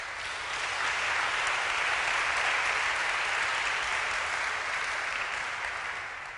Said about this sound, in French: Acclamons notre roi.